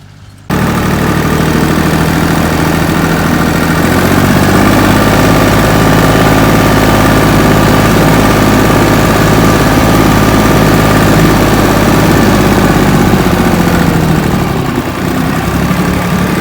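A tractor engine runs during field sowing, a loud, steady low rumble that starts abruptly and drones on without letup, very close.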